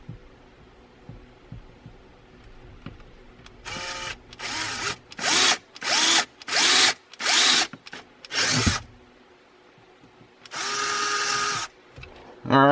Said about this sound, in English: Let the drilling commence.